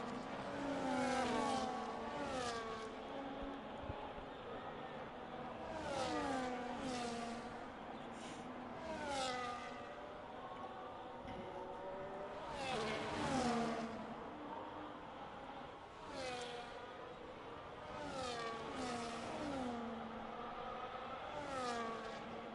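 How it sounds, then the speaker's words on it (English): F1 race cars in a racing video game at the British Grand Prix scream past one after another, engine notes rising and falling in repeated Doppler sweeps over the span. "You see Fight Me going past G-Bot"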